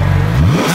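A 2012 Ferrari 458 arriving at a classic car show, its engine revving loudly and close by, the pitch rising and falling through a short burst with no talk.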